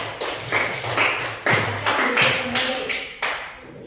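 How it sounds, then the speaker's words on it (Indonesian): Classroom of students applauding a group after its presentation, a series of sharp, uneven bursts of claps close by, with some murmuring voices underneath. "ayo tepuk tangan untuk kelompok"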